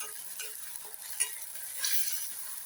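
Tomato stir-fries in a pan for a spicy butter catfish curry, heard as a soft, close sizzle with light stirring scrapes and a brief brighter hiss.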